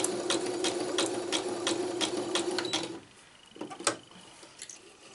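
A sewing machine fitted with a cording foot stitches over bare wire in a fast, rhythmic burst of mechanical clatter, then stops, leaving a few faint clicks and handling noises.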